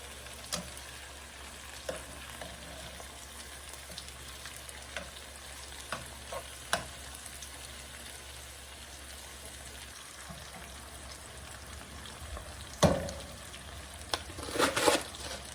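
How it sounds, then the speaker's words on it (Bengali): Small sarputi fish fry in a pan with a steady, quiet sizzle throughout, broken by occasional light clicks of a utensil and a louder clatter and spatter toward the end. "এখানে আমার মাছ ভাজিটা হয়ে গেছে"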